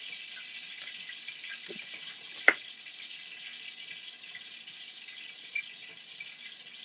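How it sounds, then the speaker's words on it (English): Hot frying oil for fish gives a steady, moderate hiss that runs unbroken through the whole stretch, with one sharp pop near the middle and a smaller one toward the end. "If I hear my oil like that, I know it's ready to go."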